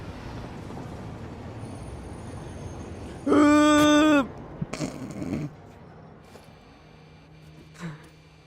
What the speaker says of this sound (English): Train derailed.